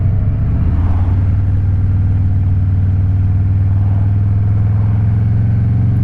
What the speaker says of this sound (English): I'll slow down, drop down to some lower gears.